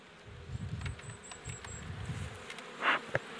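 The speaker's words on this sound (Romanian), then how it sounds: "Dar eu mă uit că e blândă albina." Honeybees buzz around a hive at a village apiary in Chiscareni, a soft, continuous low hum of many insects with a few closer passes, faint and steady with no talking.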